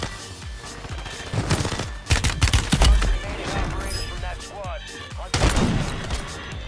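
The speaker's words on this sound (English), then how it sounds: "running the Renetti and the Moore sniper rifle" Dense bursts of video game gunfire in Warzone 3 from a Renetti pistol and a Moore sniper rifle, with rapid overlapping shots, loud sharp cracks around the middle and a final heavy volley, all close and busy.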